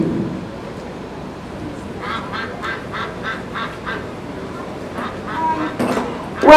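Ducks being herded by a stock dog at the Calgary Stampede give a quick run of quacks, then a few more later, fairly faint beneath a steady crowd and outdoor murmur.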